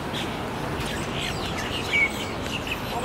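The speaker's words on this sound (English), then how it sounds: "literally so many birds outside" Many birds chirp and tweet outside a Miami mall, small calls scattered over a steady outdoor background hum, moderately distant and fairly faint.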